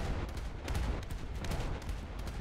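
Dense, rumbling naval gunfire in a video game rolls continuously, with rapid overlapping booms and sharp cracks blending into a steady roar.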